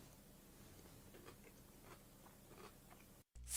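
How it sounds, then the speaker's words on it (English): Close, soft crunching from chewing a cheese salad, faint irregular crisp bites over a steady background hiss, ending in a brief dropout. "You can hear the crunching."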